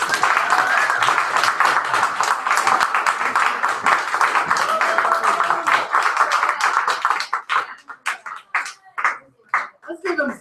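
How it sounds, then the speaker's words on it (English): A poetry audience at Cush Cafe claps in a dense, sustained round that thins into scattered individual claps toward the end, loud and close, with a few voices mixed in. "Let's give them another round of applause"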